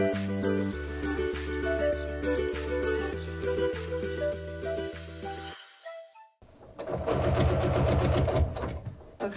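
A sewing machine stitches a pillowcase in bursts of rapid, rhythmic needle clatter, stopping briefly before a louder, denser run of stitching starts up close by.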